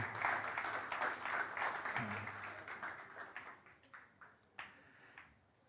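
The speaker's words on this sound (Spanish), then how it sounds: "¿Qué tal si le damos un aplauso a ese Dios grande?" Congregation applause during a Spanish-language church sermon, a dense wash of clapping that holds strong for several seconds, then thins into scattered, fading claps.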